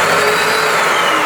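A Britex DIY carpet cleaning machine runs its vacuum motor, giving a loud, steady, unbroken whine with a broad hiss and no talk over it.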